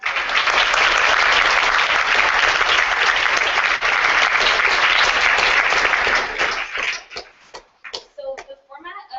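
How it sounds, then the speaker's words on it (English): Audience applause at a campus honors program debate event: loud, dense clapping sustained for about six seconds, then thinning out into a few scattered final claps. "please join me in giving a round of applause"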